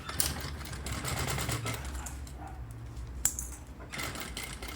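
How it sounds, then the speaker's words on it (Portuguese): A sewing machine runs steadily, stitching the back of a double-opening zippered toiletry pouch close to the zipper teeth, with a brief pause and small clicks partway through. "eu vou começar a costurar aqui pela parte de trás"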